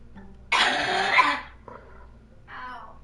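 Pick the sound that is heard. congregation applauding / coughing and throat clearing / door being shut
coughing and throat clearing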